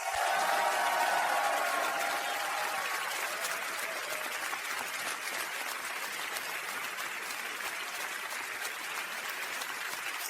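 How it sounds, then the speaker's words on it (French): A church congregation at a service in Singapore breaks into sustained, dense applause, a thick steady wash of many hands clapping that holds at full strength for about ten seconds. "Puis-je entendre votre offrande d'applaudissements digne à votre amen le plus fort?"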